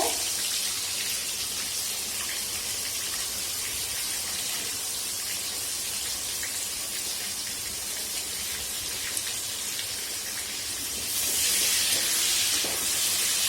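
Finely chopped onions sizzle and crackle in hot oil in a pan, a steady bright hiss that holds for a long stretch and then grows louder near the end.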